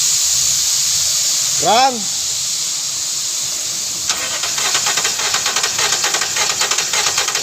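Air hisses in a broad, steady wash throughout a compression test on a Toyota Land Cruiser engine with a misfire, with a short swooping tone near the start and a pulsing, rhythmic chatter joining about halfway.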